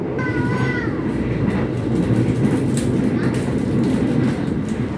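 The Argo Cheribon passenger train rolls loudly into Jatibarang station with a constant rumble, rhythmic wheel clatter and a brief high squeal of brakes near the start.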